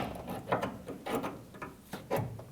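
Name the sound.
prying a tailgate cable clip out, Ford F-150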